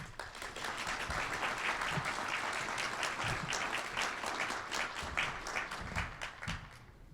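A seated audience at a utility's 100th anniversary annual meeting breaks into steady, sustained applause, many hands clapping together in a dense wash that carries on without talk before tapering slightly at the end.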